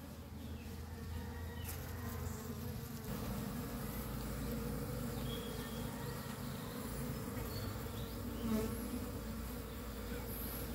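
Honeybees hum steadily around an opened hive box, a dense, continuous buzz close by with no voices over it.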